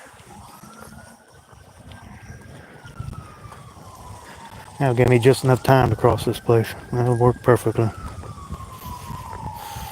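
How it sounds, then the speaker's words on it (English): A distant fire truck siren wails, its pitch slowly rising and falling, while someone talks close by over it partway through. "Those siren, you hear that siren?"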